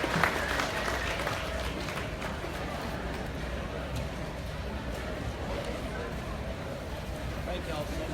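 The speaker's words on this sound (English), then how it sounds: "Let's give all of those exhibitors a big round of applause as they leave our ring" Applause from a crowd for exhibitors leaving the ring at a livestock show, a steady wash of clapping throughout, fairly distant and moderate in level, with background voices.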